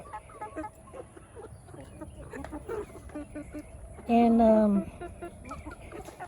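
Backyard chickens scratch and cluck in the afternoon, soft scattered clucks that run throughout with one louder, drawn-out squawk near the middle, and a person speaks briefly.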